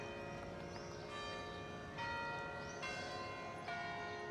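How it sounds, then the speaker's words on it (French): Church bells in Braga, Portugal ring with layered, sustained metallic tones, new strikes swelling in every second or so over a steady resonant wash; no voices. "le tintement des cloches des églises se déclenche"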